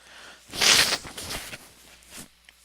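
A close, forceful nose blow, with a loud burst followed by a few shorter snuffling blasts that trail off.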